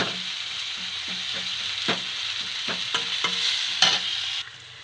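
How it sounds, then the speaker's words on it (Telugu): Onions fry in a pan with salt and turmeric for a mung bean curry. A steady sizzle runs under repeated spatula scrapes and stirring knocks, with no talking. "ఆనియన్స్ బాగా వేగే చూడండి"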